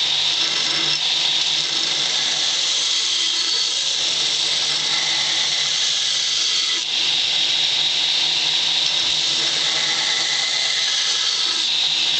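Knife blade being ground on a 60 grit abrasive belt, a steady loud high-pitched grinding hiss that runs continuously with only a brief dip midway.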